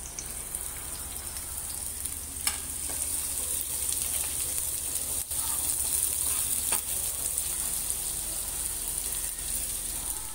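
Chopped onion sizzles and fries in hot oil in a pan for noodles, a steady close crackling hiss with occasional stirring clicks and no talking.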